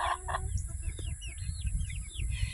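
Easter Egger and Welsummer chickens in a grassy pen cluck and chirp softly in quick, overlapping calls, close by over steady outdoor background noise.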